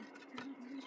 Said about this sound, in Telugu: కట్ వర్క్ షేప్ పైన ఒక కుట్టు వేసుకుంటున్నాం.